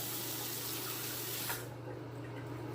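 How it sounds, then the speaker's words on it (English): Tap water running steadily to wet a Rockwell 2C safety razor at a bathroom sink, a close, even hiss that cuts off sharply partway through, leaving a low hum. "No, I'll wet the razor."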